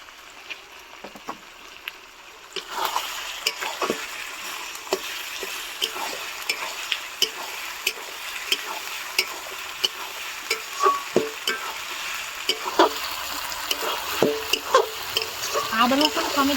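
Ginger-garlic paste and whole garlic cloves frying in a pan for chicken ghugni, a steady sizzle starting after a quiet opening, with repeated spatula scrapes and stirring knocks throughout.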